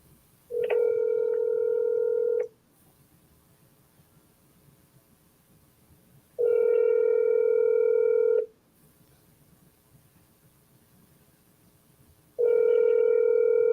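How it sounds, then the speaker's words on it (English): Ringback tone of an outgoing telephone call: three steady two-second electronic tones separated by about four seconds of quiet line hiss, with no speech. "That's an instance where I would double dial right away."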